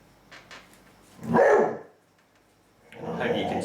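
A dog barks in a few loud bursts near a kitchen where brisket is being seasoned, with a short gap between the barks and faint background noise.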